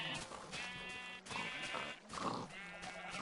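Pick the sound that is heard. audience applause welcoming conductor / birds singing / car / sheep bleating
sheep bleating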